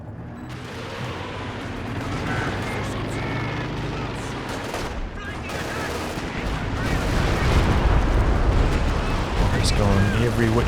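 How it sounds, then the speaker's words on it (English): Rocket barrage artillery explodes in Company of Heroes 2: a dense, continuous roar of blasts and crackling impacts that swells louder toward the end, with a commentator talking over it. "That was the rocket barrage from Moe Green"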